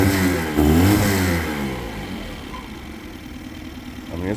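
A 2021 Mercury 9.9hp long-shaft four-stroke outboard revs up on throttle only, out of gear, the engine note swelling loudly then settling back toward a steadier running hum, with no talking.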